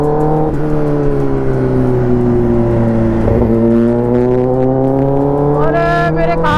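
A Kawasaki ZX10R motorcycle exhaust at open throttle drones loudly and steadily from up close, its pitch sagging and swelling between gear changes, then climbing sharply near the end.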